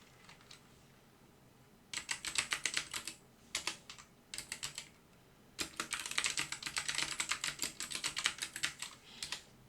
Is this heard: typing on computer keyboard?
yes